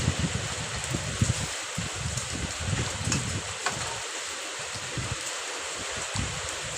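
Heavy rain driven by wind at a rural Thai home, a steady broadband wash of falling water with gusty rustling, fairly loud and continuous throughout, with no voices.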